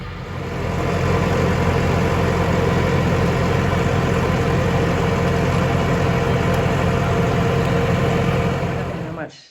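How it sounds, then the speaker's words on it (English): A tractor engine runs steadily close by on a sloping rural plot, a loud continuous low rumble with a constant idling drone that holds throughout before cutting off at the very end. "But tractor's happening right now."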